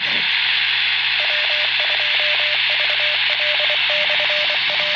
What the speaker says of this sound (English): Some Morse code. That's Morse code.